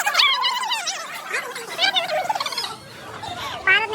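A partridge at a zoo giving repeated, rapid warbling calls close by, in short bursts separated by brief pauses.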